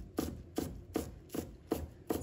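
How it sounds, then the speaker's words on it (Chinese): A knife chopping green onion leaves into small rings on a cutting board, with six evenly spaced sharp chops at a steady rhythm, close and clear, with no talking. "葱叶把它切成葱花。"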